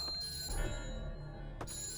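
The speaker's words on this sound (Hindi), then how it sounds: "सर, घंटी बज रही है, कोई फोन नहीं उठा रहा है" A telephone in a police setting rings on and on, unanswered, its steady electronic tones sitting over a low room hum with a brief louder burst near the end.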